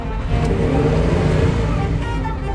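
A $3 million exotic supercar engine runs loud and close, a rich rumbling rev rising and holding through the moment, with brief voices in the background.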